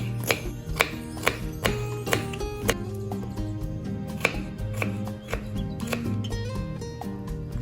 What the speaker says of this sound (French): Vous pouvez aussi venir couper du concombre.